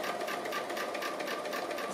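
A sewing machine runs steadily while stitching the raw edges of appliqué fabric, a quick continuous whirring patter heard close and alone.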